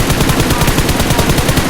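Rapid automatic gunfire in the video game PUBG, a loud, dense run of shots fired in quick succession throughout, with no speech.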